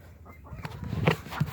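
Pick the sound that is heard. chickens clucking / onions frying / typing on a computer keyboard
chickens clucking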